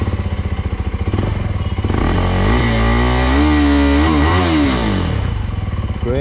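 A KTM 390 Adventure fitted with an Akrapovic exhaust fires up close by, settling into a steady, loud idle before several sharp throttle blips rise and fall, then returning to a rumbling idle.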